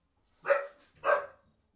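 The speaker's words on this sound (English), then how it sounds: "There go the dogs, possibly in response to the robot." Dogs let out two distinct barks about half a second apart, moderately close and clear against an otherwise quiet background.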